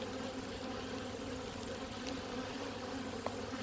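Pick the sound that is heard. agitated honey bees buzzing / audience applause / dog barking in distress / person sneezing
agitated honey bees buzzing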